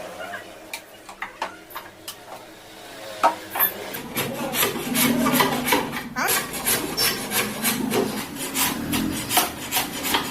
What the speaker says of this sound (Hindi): एक्स्ट्रा है तो आपको इस पर रंदे की मदद से इसको बिल्कुल फिनिश कर देना है